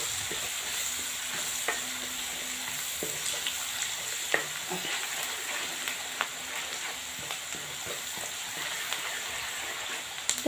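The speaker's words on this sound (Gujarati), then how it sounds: "ડુંગળી સરસ મજાની શેકાઈ રહી છે." Finely chopped onion fries in a pan with garlic for a bottle gourd and chickpea curry. An even sizzle hisses throughout, dotted with light clicks and taps of stirring.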